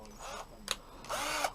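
A mains-powered drill tries to bore through a part on a Honda Bros (Hawk GT) motorcycle: short whining bursts of the motor spin up and stop, with a sharp click between, under quiet surroundings.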